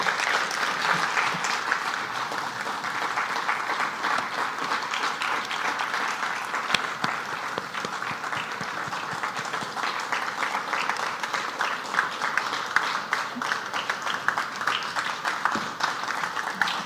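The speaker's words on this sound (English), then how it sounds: "Applause, please." Steady audience applause at a symposium in the Cayman Islands, sustained even clapping from a seated crowd lasting throughout, moderately loud with no talking over it.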